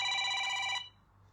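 Telephone bell ringing loudly and close during a live stream selling velvet and chiffon gowns, a steady electronic trill lasting most of a second and then cutting off to quiet room noise.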